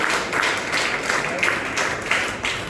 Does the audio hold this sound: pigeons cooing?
no